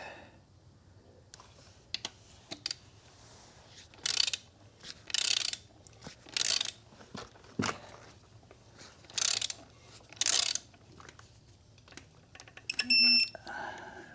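Ratchet torque wrench tightening clutch bolts on a 2012 Ford Focus dual clutch, a series of short clicking ratchet bursts at irregular intervals, ending in a sharper click, with faint voice in between.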